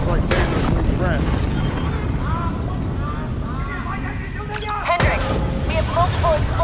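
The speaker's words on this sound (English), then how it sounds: "multiple explosions across the facility" Loud, continuous booming and rumbling from explosions in the Call of Duty Black Ops III video game, with a sharp burst near the end, layered with game effects and voices talking throughout.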